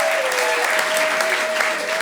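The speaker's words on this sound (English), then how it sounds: "Let's give her another round of applause." Steady applause from a live storytelling event audience, dense and continuous throughout the short clip with a faint tone running underneath.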